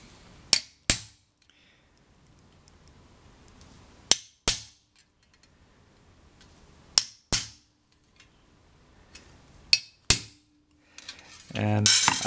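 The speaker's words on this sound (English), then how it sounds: "the piercing part starts first with a nail punch" A steel nail punch is hammered into a metal spatula being pierced, giving eight sharp, ringing metallic strikes in close pairs with pauses between, followed by a brief rougher scraping noise at the end.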